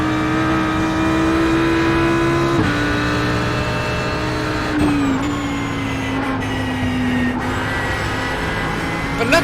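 An Audi GT3 race car in iRacing at Oulton Park drones steadily at high revs through a chicane, its engine pitch dipping and shifting with gear changes, loud and continuous throughout with no talking.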